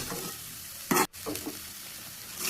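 Potato bhaji with onion sizzles in a pan while being stirred, giving a steady frying hiss broken by a couple of sharp scraping strokes of the spoon near the start.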